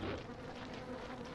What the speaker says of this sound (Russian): Вон пчелы.